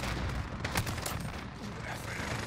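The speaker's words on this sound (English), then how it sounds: "I'm point blank shooting them and getting right there" Gunfire in the Modern Warfare video game's Survival mode, dense rapid shots crackling over a busy, constant wash of in-game noise.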